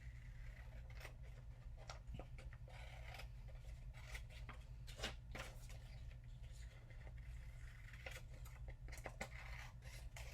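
Scissors snip through paper while cutting out a square for a Jasper art project, a steady run of short crisp cuts over a constant low hum, close and fairly quiet.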